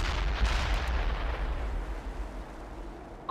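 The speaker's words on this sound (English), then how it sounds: "Commence artillery strike." An artillery strike in World in Conflict lands as a rumbling barrage of heavy booms, loud at first and slowly fading, with a fresh blast at the very end.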